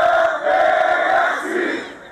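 Large crowd of education marchers chanting in a dense, steady roar at a protest march in Heraklion, voices merging into a continuous loud wall of sound.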